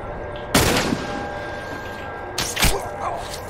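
Rifle gunfire in the video game The Last of Us: two sharp, loud shots about two seconds apart, the second followed by a quick echoing burst, over low background ambience.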